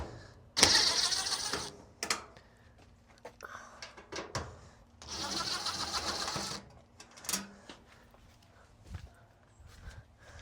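A screwdriver, likely powered, backs two screws out of a Whirlpool dryer's main control board. It makes two whirring bursts of a few seconds each, close by, with light clicks and handling noises between them.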